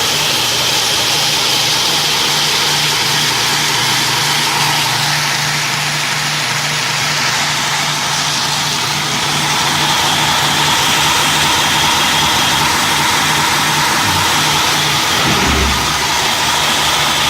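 A Fire Ant 1.4 CNC machine runs over the centre of the platen, giving a steady, loud, continuous mechanical drone and whir with a low hum underneath and no break throughout.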